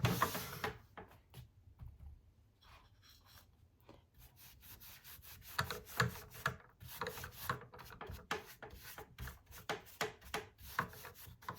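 A cloth rubs DIY wax onto a wooden side table in a faint, irregular series of short scrubbing strokes, quiet and close.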